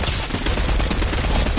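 A gunshot fired as a warning in a video game, heard as dense, loud gunfire that fills the whole short clip with no break.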